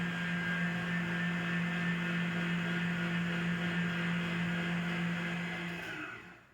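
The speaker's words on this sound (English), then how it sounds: "first thing I did is I took my mixer. You can hear it over here." An electric mixer beats egg whites with cream of tartar toward stiff peaks, giving a steady, even motor whir that runs for several seconds before winding down at the end.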